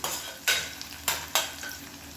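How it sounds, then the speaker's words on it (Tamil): Onions sauté in a one-pot lunchbox dish, a steady soft sizzle broken by three or four loud scraping stirs of a spoon against the pot, close and with no talking. "வெங்காயம் நல்லா வதங்கிடுச்சு."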